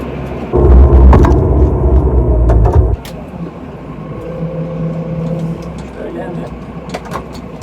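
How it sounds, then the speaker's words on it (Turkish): A Massey Ferguson tractor engine idles with a loud, close, low rumble for a couple of seconds, then drops back to a quieter running sound while someone talks over it. "Traktör rolantisini de aldı."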